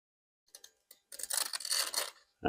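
Material cut for ground layering a fig tree: a few faint snips, then a dense, close rasping cut lasting about a second, and a sharp final snip.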